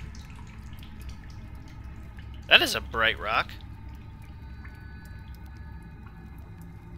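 Faint water dripping in a dank cave in the Solus Project game, low ambient drips with a voice talking over them.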